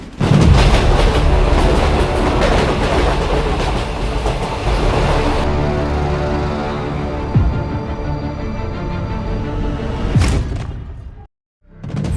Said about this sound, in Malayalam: റോയൽ മെയിൻ ട്രെയിൻ പതിവ് പോലെ വേഗത്തിൽ ചീറിപ്പാഞ്ഞ് പോയിക്കൊണ്ടേയിരുന്നു